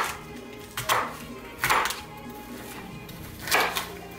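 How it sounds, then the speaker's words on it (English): A knife chops a lengthwise-cut green pepper into fine, small pieces on a board: a few soft, close strokes landing at irregular intervals against a quiet background. "I cut a green pepper lengthwise. And now I'm going to chop it into fine,"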